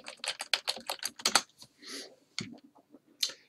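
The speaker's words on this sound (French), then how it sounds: "Alors, je tape BANQ, journaux." Fast typing on a computer keyboard, a quick burst of crisp clicking keystrokes followed by a few slower, separated taps, close and clear with no talking.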